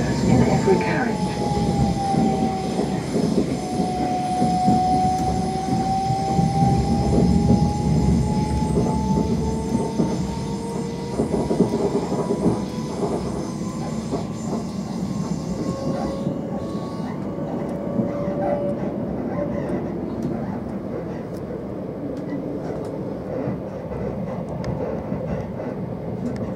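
Class 387 electric multiple unit, units 387 113 and 387 115 coupled, riding from Bedford to Flitwick, heard from inside the carriage: steady loud rumble of running wheels with a rising and falling motor whine and faint rail clatter throughout.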